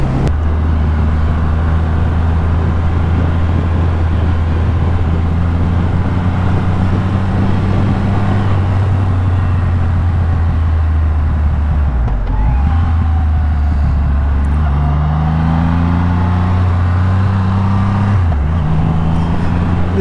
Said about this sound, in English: The exhaust has got quite a nice rumble